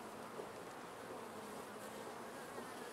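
Many honey bees buzz in a dense, steady drone, close by and continuous during a hive honey harvest, with no voices.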